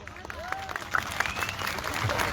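A festival audience applauds the mayor of Ağrı at the traditional Balık Gölü Summer Festival. The clapping is a steady wash of moderate, fairly distant applause, and a voice talks over it.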